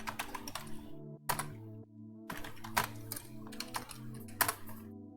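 Code being typed on a computer keyboard in quick, irregular bursts of close, crisp key clicks, with short pauses between runs and a faint tonal hum beneath.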